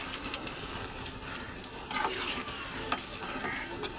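Masala being stirred slowly in a frying pan, a steady sizzle with soft scraping strokes close by and a couple of sharper clinks against the pan.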